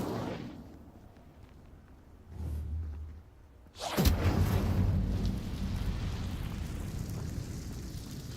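A fire spell explosion in the Hogwarts Legacy video game. A quiet rumble swells, dips, then erupts in a sudden loud burst that decays into a long, roaring tail.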